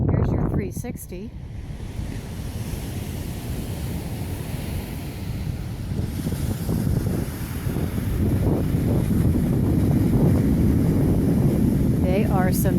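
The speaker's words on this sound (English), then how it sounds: "They are some noisy waves today." Rough surf crashes along a California dune beach at Fort Ord, loud rolling waves swelling louder toward the end, heavy wind gusting across the microphone, and someone talking briefly over it.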